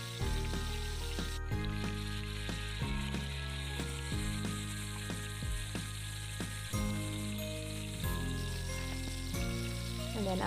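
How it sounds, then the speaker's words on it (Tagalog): Chunks of beef brisket sizzle as they are sautéed in a pan, a steady crackling fry broken by regular clinks and scrapes of a utensil stirring against the pan. "So, gigisa-gisahin lang natin ito."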